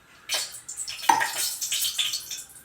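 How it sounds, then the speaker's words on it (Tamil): A little oil is poured into a pressure cooker while making goat spleen gravy, heard as close, splashy liquid sounds and light metallic clatter in short uneven bursts. "குக்கரில் கொஞ்சமாக எண்ணெய் ஊற்றிட்டு"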